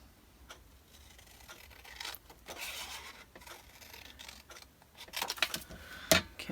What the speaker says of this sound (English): I'll just use my scissors here